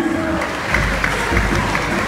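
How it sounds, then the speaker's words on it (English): An audience at a Crossfire gaming tournament applauds, a loud, sustained wash of clapping and crowd noise on stage with low rumble, filling the whole moment. "A round of applause,"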